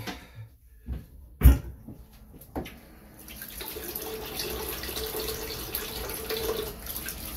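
A shaving razor head is rinsed under running tap water: a few sharp knocks and clatters at first, then a steady rush of water from the faucet into a sink that carries on to the end.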